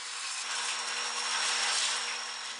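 A belt sander shapes the wooden head of a ball head war club, giving a steady, even grinding whir with a thin high whine that holds throughout without pause.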